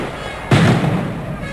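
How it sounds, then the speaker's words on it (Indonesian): A single sharp firecracker bang, set off by protesters during a demonstration at Polda Metro Jaya, cracks loud and close, then decays into a brief rumbling tail. "suara petasan yang dinyalakan oleh massa sepertinya."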